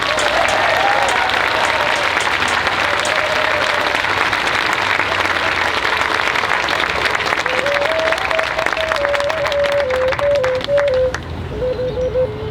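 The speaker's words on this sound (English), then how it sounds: "Please put a round of applause for Chief Reuben George." A crowd at an outdoor pipeline protest gathering applauds in a dense, sustained wash of clapping that lasts several seconds, with a faint melodic tone running underneath before the applause thins at the end.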